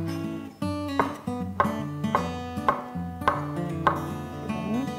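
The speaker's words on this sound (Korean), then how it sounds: "두 번째로는 죽순을 이용한 죽순을 썰어 볼 건데요" A knife chops bamboo shoots on a cutting board, a steady series of about eight crisp, close knocks, alone with no talk.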